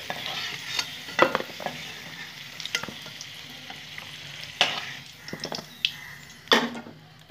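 Potatoes fried red-brown in oil sizzle steadily in a pan for a Gandharaj chicken dish, with scattered scraping clicks and a few louder knocks as pieces are stirred and lifted out; no voices.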